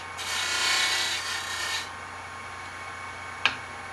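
Wide parting tool cutting a spindle of wood on a lathe, a brief bright rasping scrape lasting under two seconds, followed by quiet hum and a single sharp tap.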